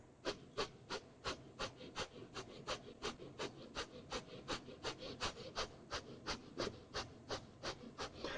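Rapid, rhythmic yoga breath of fire: about three sharp nasal exhalations per second in an unbroken series, close and fairly quiet, with no talking.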